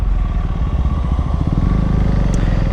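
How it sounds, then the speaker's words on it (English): Husqvarna Svartpilen 401 fitted with a LeoVince LV10 titanium exhaust, a close, loud, burbling single-cylinder thump with rapid irregular pulses and some clatter, steady throughout with no talk. "the first thing that I can hear is the LV10 titanium exhaust"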